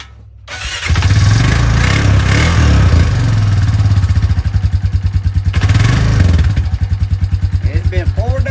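A motorcycle fitted with a Chinese carburetor, cold after sitting four days, cranks over and catches, then settles into a loud, steady, slightly uneven idle with rhythmic pulsing, close by and running alone.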